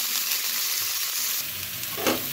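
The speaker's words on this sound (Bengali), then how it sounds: "এইবারে রসুন আর পেঁয়াজটা আমি ফ্রাই করে নেব।" Garlic and a medium onion sizzle steadily in hot oil in a pan for a masoor dal, a dense continuous hiss with a brief louder crackle near the end and no voices.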